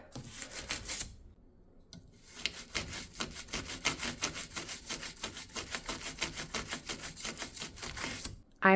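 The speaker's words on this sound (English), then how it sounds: "Scrub." A tool scrubs a kitchen surface, working into a narrow crack with a fast, steady back-and-forth rasp after a brief pause near the start, loud and close with no talking.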